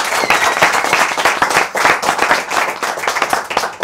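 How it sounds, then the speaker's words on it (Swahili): A crowd applauds David Kale with dense, loud clapping that runs steadily throughout, full and close with no pauses. "Wazi, wapi makofi ya David Kale?"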